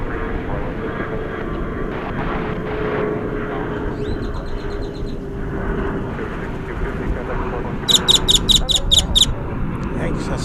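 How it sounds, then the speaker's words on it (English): Boeing 777 airliner of American Flight 50 turning at DFW airport, engines giving a loud, broad, continuous roar, with a voice speaking under it and sharp chirping bird squawks near the end. "American Flight 50 to London Heathrow, 777 is making the turn"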